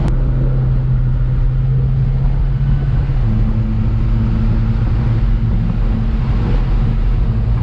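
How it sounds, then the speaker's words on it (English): An Alfa Romeo 4C Spider's turbocharged engine drones steadily at half throttle, its tone stepping up partway through beneath heavy wind rush and road noise. "it already starts accelerating, and this is half throttle, where the turbo feels like it kicks in immediately."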